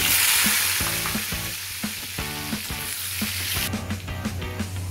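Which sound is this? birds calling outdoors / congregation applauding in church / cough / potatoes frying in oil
potatoes frying in oil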